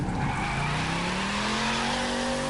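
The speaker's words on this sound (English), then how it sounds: "Personally, I think drifting with this car, which is the Shelby, it's way easier to do with the controller." A Shelby car drifting in the racing game The Crew 2, its tires squealing loudly and continuously as the engine holds a high rising note, close and without talk.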